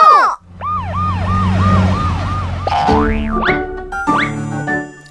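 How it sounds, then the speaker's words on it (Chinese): Cartoon police car siren from a children's vehicle song, rapid looping wails alongside springy boing effects and bright musical tones, loud and up close with no talking. "警车"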